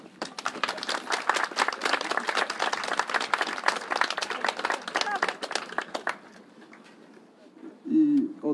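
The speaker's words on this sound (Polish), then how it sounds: "Jeśli można o ciche oklaski" Audience applause in Sandomierz welcoming Szymon Hołownia: dense clapping for about six seconds, then fading into quiet with a voice briefly speaking near the end.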